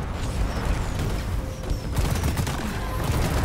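The gunner in the Deep Rock Galactic video game fires guns in a sustained, dense rattle, loud and close, with cave combat noise and no pause.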